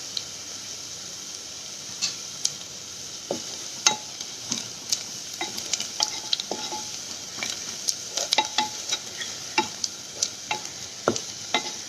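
Masalas browning in hot oil in a home kitchen pan, a steady bright sizzle with frequent light clicks and scrapes of a spoon stirring, close and continuous.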